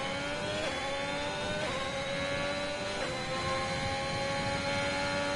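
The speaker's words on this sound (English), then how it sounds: "He's speeding that Ferrari up to turn 2." A Ferrari race car in a racing video game at the Austrian circuit revs steadily through its gears, a continuous high engine whine with brief dips at each shift.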